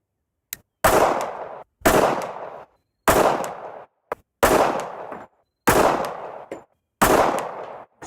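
Six loud, sharp pistol shots from a Tisas 1911 A1, fired one at a time with roughly a second between each, every report decaying briefly before the next, with no talking.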